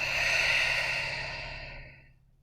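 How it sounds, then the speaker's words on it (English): A single long open-mouth exhale from a yoga practitioner, a broad breathy sigh that starts full and close, then fades steadily into silence over about two seconds. "And open mouth, exhale, release."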